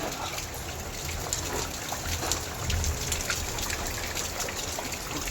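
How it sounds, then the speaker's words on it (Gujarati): Heavy overnight rain in Surat pours through a gap where a tin roof sheet is missing, splashing and trickling into the house as a steady, dense wash of dripping and gushing water with no pauses. "એક પતરું નથી એટલે આયા એના હિસાબે પાણી પડે છે. એ બધું પાણી અંદર આવે છે ઘરમાં."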